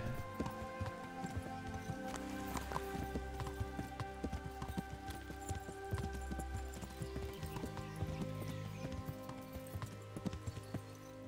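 Horse hooves clip-clop steadily in Kingdom Come Deliverance, a game, an even rhythmic trot close by over a soft ambient background, with an occasional faint whinny-like sound.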